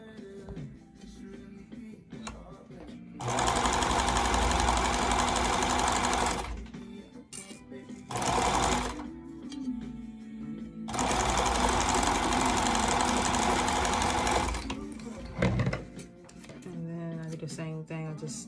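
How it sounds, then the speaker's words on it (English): A sewing machine stitches a fabric face mask seam in two long, loud, close bursts of rapid mechanical whirring, with shorter runs in between and someone talking in the pauses. "I sew it closed to make sure my seams match the center seams"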